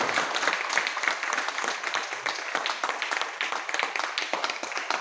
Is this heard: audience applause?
yes